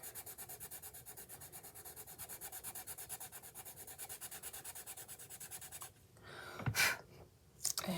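An Artist's Loft colored pencil shades paper with heavy pressure in fast, rhythmic scratchy strokes that run steadily and close, then stop and give way to a few louder bumps and handling noises.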